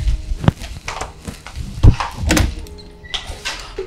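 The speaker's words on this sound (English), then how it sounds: "open the door" A door is opened with thumps and a scraping slide, knocks and bumps close by, in a domestic drama scene at a home entrance.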